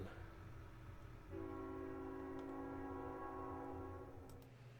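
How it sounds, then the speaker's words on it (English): A real freight or passenger train sounds its horn nearby, a steady multi-tone chord holding for about three seconds over a constant low rail rumble that fades as the horn cuts off. "got that darn train again."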